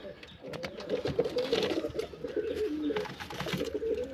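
Domestic pigeons coo steadily nearby while being vaccinated, soft throaty calls overlapping, with faint taps and clicks of handling mixed in.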